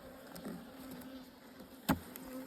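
Honey bees hum around an open hive in a steady, faint drone, with a brief louder buzz as one passes close near the end.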